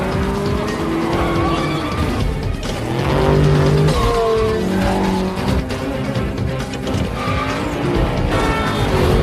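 Race cars in a street race roar loudly and continuously, engines revving with tonal whines and intermittent tire squeals throughout, with dramatic film music mixed in.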